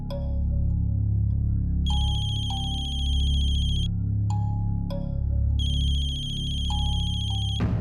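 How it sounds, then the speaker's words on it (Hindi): A mobile phone hidden somewhere nearby rings with a loud, repeating electronic ringtone melody that pauses briefly and resumes, over a steady low background hum. "मम्मा फोन की आवाज तो यही कहीं से आ रही है।"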